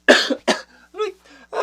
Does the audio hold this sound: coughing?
yes